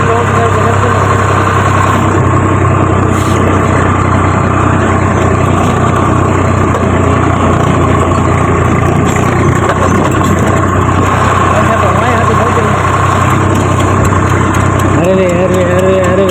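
A tractor engine runs loudly and steadily at close range, a constant low rumble with vibration throughout.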